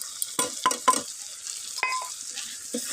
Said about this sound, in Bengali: আমি একটু পাঁচ মিনিট জন্য নাড়াচাড়া করব যত সময় টমেটা গলে না যায়